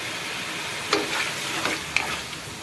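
Mutton pulao masala of tomatoes, red chilli and spices frying in a pot, with a steady sizzle broken by a few quick spoon scrapes and knocks close by.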